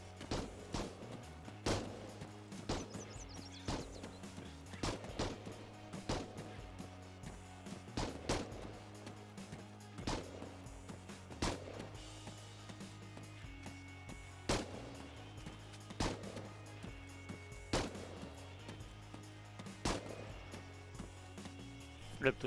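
Distant enemy gunfire in the military video game Arma 3, sharp single shots spaced every second or two, faint and far off over a low steady hum.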